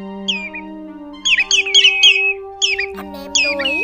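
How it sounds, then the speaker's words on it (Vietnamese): Sandpiper calls ring out clearly: a series of sharp, high chirps and whistled trills in short bursts over a steady tonal background. "Anh em cần bản gốc của tiếng chim này mà không bị chèn nhạc vào"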